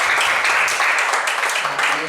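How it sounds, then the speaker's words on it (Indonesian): A congregation claps during an online church worship service, a thick continuous round of applause that stays steady throughout, with faint voices beneath. "Berikan tepuk tangan buat Tuhan kita semua."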